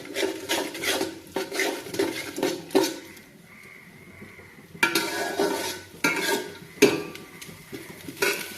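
Egg frying with onion in a pan, heard as repeated scraping and clinking of a spatula against the metal pan, arriving in uneven bursts with a faint sizzle beneath and no talking.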